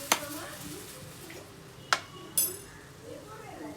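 Saffola masala oodles stirred in a pot, with a few sharp clinks of a utensil against the pot over a low background hum as a voice talks.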